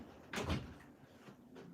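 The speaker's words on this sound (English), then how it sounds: "I just shut the door." Someone shuts a door indoors: a single soft thud and rustle of the door closing, then quiet room tone.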